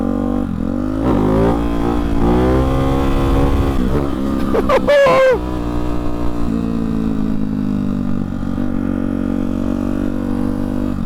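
A Hypermotard 698 motorcycle fitted with a Hyper 698 S1 aftermarket exhaust idles loudly up close, revs sharply up and back down, then settles into a deep, steady burble.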